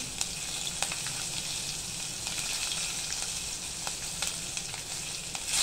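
Asafoetida, curry leaves and green chilli pieces crackle and sizzle in hot oil, a close, even frying hiss with scattered sharp pops throughout.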